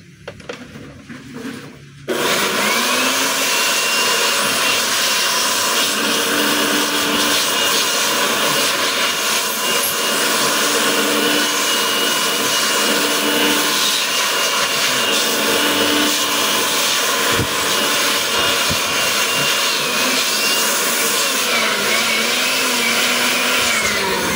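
A Stanley 10.8V cordless electric blower starts up with a click and runs continuously at a loud, steady whine and roar, with slight pitch wavers throughout.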